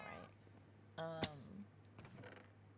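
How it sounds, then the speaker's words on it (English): A pet cat in a streamer's room lets out one short, loud harmonic meow, with a faint steady hum underneath and a few softer rustles afterward. "did you just hear my IRL cat scream at me?"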